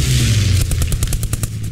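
Rapid automatic gunfire rattles out in the video game Squad 44, a burst of about ten evenly spaced shots following a moment of low rumble, loud and close.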